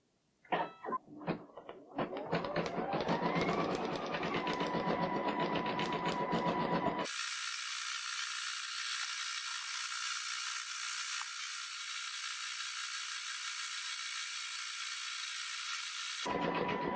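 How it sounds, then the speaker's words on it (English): Computerized embroidery sewing machine stitching red lettering on a Christmas stocking cuff, a steady high mechanical whir with rapid needle chatter running continuously, after a brief stretch of handling and setup noise. "When I'm ready to sew, just going to lower the presser foot,"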